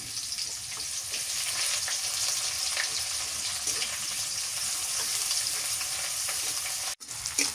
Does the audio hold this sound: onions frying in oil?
yes